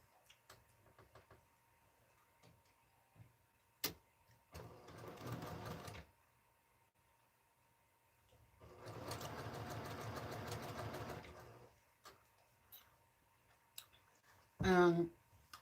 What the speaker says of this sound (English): So I'm just going to start sewing them together.